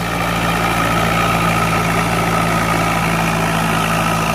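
An Ace 550 50 hp tractor engine idles at around 1500 RPM, a loud, steady, low diesel drone with constant vibration and no pauses.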